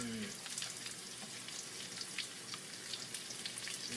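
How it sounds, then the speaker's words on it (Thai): Garlic and long beans stir-frying in hot oil give a steady, dense crackling sizzle with scattered pops, continuous and close throughout. "เราก็ใส่ผักที่มันสุกยากอย่างเช่นนี้ค่ะ เขาเรียกว่าถั่วฝักยาวลงไปก่อนนะคะเอาไปผัดกับน้ำมัน"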